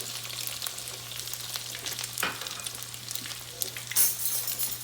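Onion frying in a pan for fried rice, a steady close sizzle with crackling bursts and an occasional clink of a utensil against the pan, no talking.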